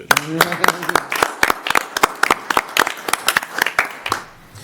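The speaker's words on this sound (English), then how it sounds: "Round of applause" At a school board meeting, a small group gives scattered hand claps in a loose, uneven rhythm that tapers off near the end, with a voice heard briefly at the start.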